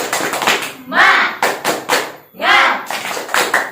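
Schoolchildren in a fourth-grade class chant loudly together while hands clap in quick rhythmic bursts, a lively group cheer with claps punctuating the shouted words.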